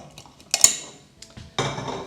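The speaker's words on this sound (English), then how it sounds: "Whisk that together." Metal utensil clinking and scraping against a bowl while whisking cream and skim milk powder together, a few sharp clinks followed by a burst of brisk stirring.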